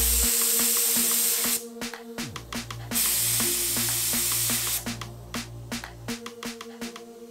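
A paint spray gun test-sprays car paint at 40 PSI in short, sharp hissing bursts of varying length, close and loud, over a steady low hum.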